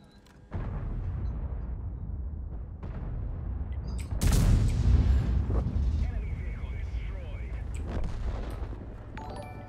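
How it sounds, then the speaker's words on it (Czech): Tank cannon fire in World of Tanks, with a light tank shooting: a sharp loud boom partway through that rumbles and decays over a low steady game hum, with players talking throughout. "Říkám, že po mně střílí to LTčko."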